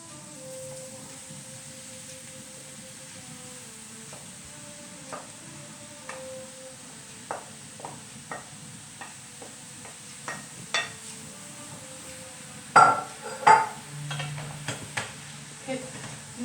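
Sliced mushrooms sizzle softly in oil and melted butter in a frying pan while a utensil stirs them, adding scattered clicks and scrapes that grow louder and busier toward the end.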